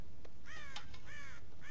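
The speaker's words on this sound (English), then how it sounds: "God damn crows!" Crows in the video game Red Dead Redemption caw in a quick series of harsh calls, some overlapping, clear over a low ambient background.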